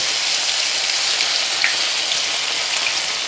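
Potato pancakes (deruny) sizzle while frying in oil in a pan, giving a steady, dense crackling hiss close to the microphone with no talking.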